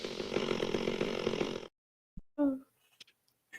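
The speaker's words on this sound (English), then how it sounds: "You hear the chainsaw in the background." A chainsaw runs steadily at moderate volume for about a second and a half, then cuts out, followed by a few brief scattered sounds and a short burst of voice.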